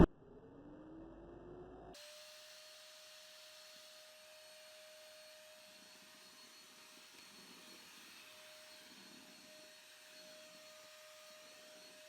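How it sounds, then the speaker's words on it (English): A Hotpoint steam vacuum switched to vacuum mode starts up after a short pause and runs steadily as a loud, close motor whine with a constant high tone and airy rush. "So let's turn it to vacuum."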